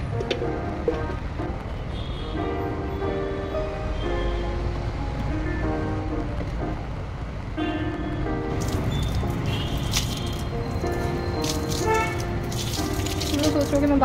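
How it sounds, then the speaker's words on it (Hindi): Water runs steadily from a tap while clothes are hand-washed in an outdoor washing area, a constant close splashing wash, with birds calling over it and brighter splashes in the second half. "बाहर के कपड़े धो रही हूँ"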